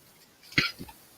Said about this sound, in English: she's coughing